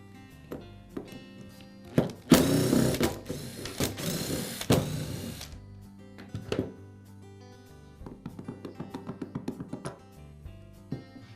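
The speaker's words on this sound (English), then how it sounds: "Now I can remove the spindle assembly by removing the 4 screws that secure it to the housing." A screwdriver turns out screws holding the spindle assembly of a Makita angle grinder: close ratcheting clicks in quick runs, a louder clattering rattle early on, then a steady series of small ticks.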